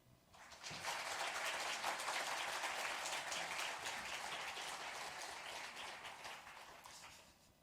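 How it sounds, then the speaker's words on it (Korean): Korean church congregation in South Africa applauding to welcome a visiting pastor before the sermon, a broad steady patter of many hands that swells quickly and slowly fades, heard from a distance. "우리 뜨거운 박수 환영하면서 주의 말씀 듣도록 하겠습니다"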